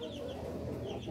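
Rhode Island Red rooster clucking in a poultry breeding yard, a steady low murmur of fowl sounds filling the whole moment with no pauses.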